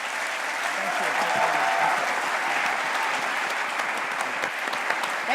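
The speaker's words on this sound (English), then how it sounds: "So let's give him a round of applause." Sustained audience applause fills the hall at Tel Aviv University as Jack Ma is about to receive an honorary doctorate, a dense, steady clapping from a large crowd lasting several seconds with no talk over it.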